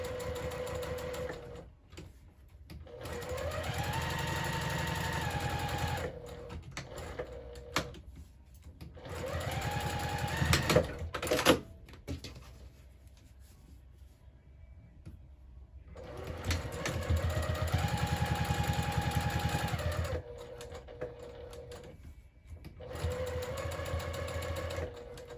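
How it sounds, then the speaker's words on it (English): Sewing machine basting the edges of a fabric wallet, running in several long steady whirring bursts with rising and falling speed, separated by quiet pauses and small handling clicks. "I'm also going to go ahead and just sew basically just the entire way around at an 1/8 of an inch seam allowance"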